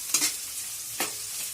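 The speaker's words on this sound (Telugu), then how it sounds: "ఇప్పుడు ఉల్లిపాయలు బ్రౌన్ కలర్గా కొద్దిగా గోల్డెన్ కలర్లోకి చేంజ్ అయ్యేంత వరకు ఫ్రై చేయండి." Onions frying in a pan while being stirred, with two distinct scraping stir strokes over a soft, steady sizzle, close and moderately quiet.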